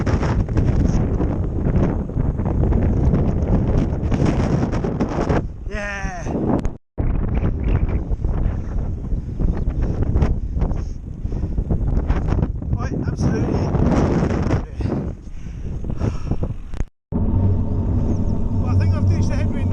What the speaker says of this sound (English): there's a hellish headwind going in this direction